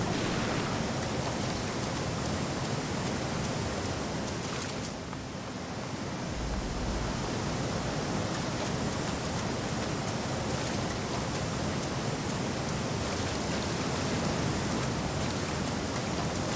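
Waterfalls in the video game Elex 2 pour with a constant dense hiss and roar, even and unbroken throughout, close and enveloping, with no speech over them.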